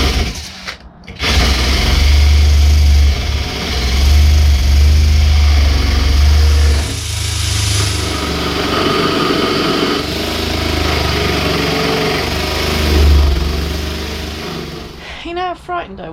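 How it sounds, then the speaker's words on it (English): A wire brush spun by a drill scrubs rust off the bodywork around the sunroof of a Nissan Micra K10, a steady buzzing whine running loud and close for most of the stretch with brief dips and shifts in pitch. "So I've got the wire brush on the drill. I'm just trying to clean this bit up."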